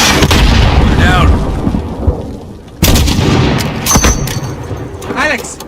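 Combat in the video game Modern Warfare brings heavy booming gunfire and distant explosive blasts in bursts, loud and reverberant, with voices shouting amid the shots.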